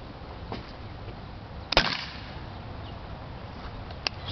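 A Beretta PX4 Storm CO2 air pistol fires outdoors: a single sharp, loud crack cuts through quiet background hiss, followed by a faint smaller snap moments later.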